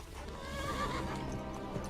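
A horse in the video game Kingdom Come Deliverance lets out a full, drawn-out whinny over steady ambient game noise, close and clearly audible for about two seconds.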